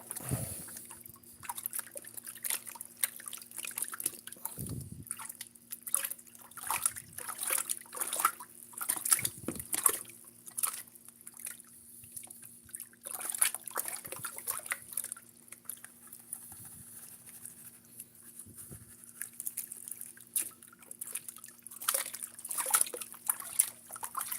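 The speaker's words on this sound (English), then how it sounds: "Water's really sloshing around this time." Water sloshes and trickles in a gold prospecting pan while paydirt from a Black Hills claim is worked, a soft, continuous wet swishing with occasional small splashes, close and fairly quiet with no talking.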